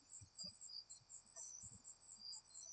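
Crickets chirp in steady, pulsing trills at a quiet nighttime spot, a faint continuous insect chorus with low rustles and thumps underneath.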